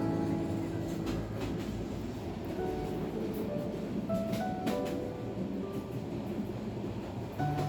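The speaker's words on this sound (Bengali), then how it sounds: "আমরা ট্রেনে উঠতে উঠতেই ট্রেনটি আবার ঢাকার উদ্দেশ্যে ছেড়ে দিল।" A passenger train rolls on the Noakhali to Dhaka line in Bangladesh in winter, its steady rumbling, rattling carriages filling the whole stretch loudly and close, with no talk over the running noise.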